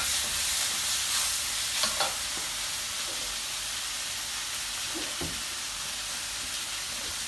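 Prawns fry in a pan with a continuous close sizzle and hiss, broken by a few light clinks and scrapes of turning, with no voices.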